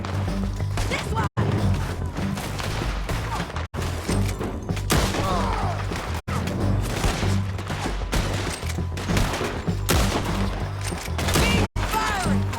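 Red Dead Redemption 2 gunfight with loud, close volleys of rapid gunshots cracking almost continuously, with brief gaps between bursts and voices shouting over the shooting.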